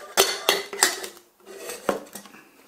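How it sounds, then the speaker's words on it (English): An MSR PocketRocket 2 camping stove and a fuel canister are packed together into a small bag, giving several close, sharp metallic clinks and clatters in a quick run, then a pause and a couple more knocks. "I'm going to put the stove inside the bag. I'm then going to put my canister inside the stove"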